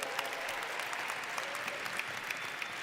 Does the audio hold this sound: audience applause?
yes